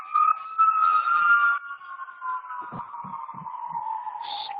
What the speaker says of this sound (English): That's New York for you, lots of sirens.